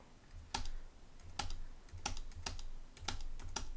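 A terminal command is typed on a computer keyboard, a handful of crisp individual keystrokes spaced irregularly, close and clear with no talk.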